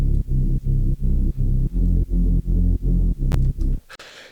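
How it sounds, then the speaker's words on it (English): A Reese bass synth preset built on a detuned saw wave plays a deep, buzzing, evenly pulsed low line of about a dozen chopped notes, loud and alone, ending in a short higher blip. "So here we have the Reese Bass,"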